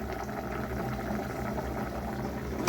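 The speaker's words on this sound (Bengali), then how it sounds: "এই দেখো মাছ তরকারি ফুটছে" Fish curry in a pot is boiling steadily, giving a continuous bubbling and simmering with a thick, even texture at moderate level.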